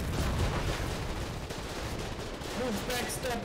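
Continuous dense gunfire in the war game Foxhole, a steady loud rattle of shots with booms filling the whole moment, voices shouting underneath.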